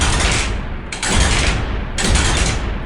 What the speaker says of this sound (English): Union artillery opens up on the Confederate left